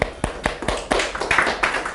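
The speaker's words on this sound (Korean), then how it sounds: "박수 한번 주시죠." Scattered applause in a classroom, a few students clapping unevenly for about two seconds, thin and close rather than a full crowd.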